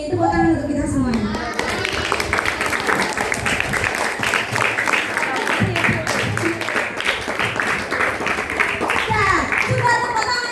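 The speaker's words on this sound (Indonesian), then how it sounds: "Tepuk tangan untuk kita semuanya." Schoolchildren clap their hands together in a loud, steady burst of applause in a classroom, with children's voices and chatter mixed under the clapping throughout.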